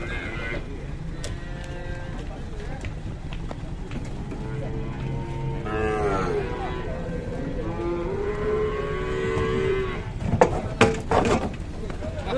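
Cows moo in long, low calls as they come down from a truck, amid a noisy outdoor scene with people talking and shouting nearby and some bumps and clatter.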